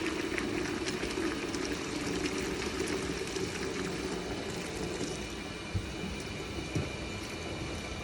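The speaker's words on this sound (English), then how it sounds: "we're gonna fill this up with water, cold water, fill it the whole way up, full crank." A commercial fryer vat fills with cold water from a tap at full flow, a steady loud rushing and splashing that continues without pause, with a couple of brief knocks near the end.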